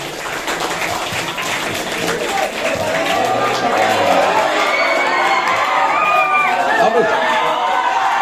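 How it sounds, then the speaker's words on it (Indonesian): Children and adults at an Isra Mi'raj commemoration clap and cheer for the children, with shouting and crowd chatter woven through a dense, steady wash of noise. "Ini tepuk tangan untuk adik semuanya."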